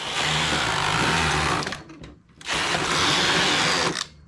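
A flatbed knitting machine with ribber, tension set to 4, knitting an open-stitch collar: a loud, steady mechanical whirring and rattling carriage pass, a brief pause around two seconds, then a second sustained pass, no talk.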